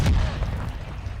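A sticky grenade thrown in Call of Duty MW2 goes off as a single heavy low boom at the start, then a rumbling tail fades under continued battle noise.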